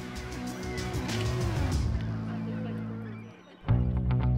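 Seabirds feeding near humpback whales in Alaska call with honking, goose-like cries, loud and close over a steady low rumble, briefly dropping away before resuming.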